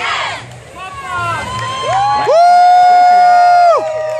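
University of Montana crowd at a cheerleading event, shouting and whooping with sustained high cheers and voices rising into a loud, held cheer.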